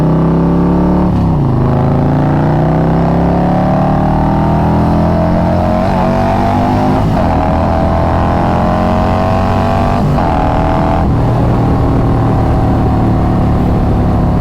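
A Harley-Davidson Road Glide motorcycle with a 2-into-1 exhaust, loud and close, its engine revving and pulling steadily up through gears with rising pitch and brief shifts, no voices.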